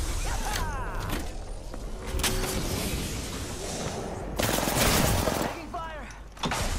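Gunfire bursts in the video game Apex Legends, rapid shots with heavy louder volleys near the middle and end, mixed with clattering game effects and footsteps, under occasional voice.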